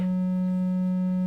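Analog synthesizer oscillator on its triangle wave output, a steady, sustained, mid-low pitched pure tone with soft overtones, loud and unchanging for about a second, with no voices.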